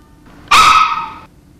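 A dog gives one loud, close bark lasting under a second, standing out sharply against near silence.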